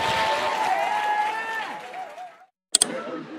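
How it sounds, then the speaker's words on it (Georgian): Audience applause for a comedian friend at a Georgian stand-up comedy show: a dense, steady clapping wash with some tonal cheering that fades out after about two and a half seconds, then a brief silence and a couple of sharp knocks. "აპლოდისმენტები ჩვენ მეგობარს."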